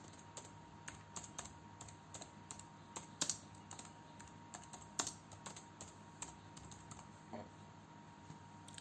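Quiet, irregular keystrokes on a computer keyboard, with a few louder clacks scattered through a faint room background.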